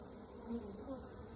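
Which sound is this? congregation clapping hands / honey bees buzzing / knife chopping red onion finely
honey bees buzzing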